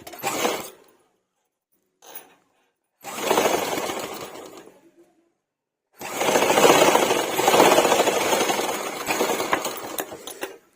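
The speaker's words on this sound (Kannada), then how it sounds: "ಇವಾಗ ಇದನ್ನ ಈ ರೀತಿ ಮೇಲ್ಗಡೆಯಿಂದ ಒಂದು ಸ್ಟಿಚ್ ಮಾಡ್ಕೊಳ್ಳೋಣ" A sewing machine stitches a blouse tassel in short runs: a brief whir, a tiny tap, a longer burst of rapid needle chatter, then the longest continuous run at the end, with quiet gaps between.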